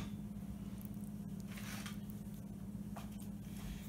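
Half a cup of oil poured into boxed lemon cake batter in a home kitchen, a faint, continuous wet squishing and glugging over quiet background hum.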